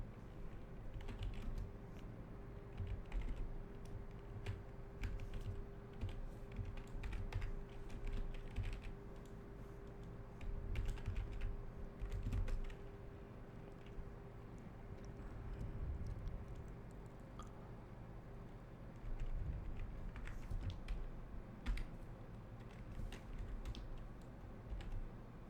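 Someone types code on a computer keyboard, with a quiet, continuous patter of key clicks in irregular bursts and brief pauses, under a faint steady hum.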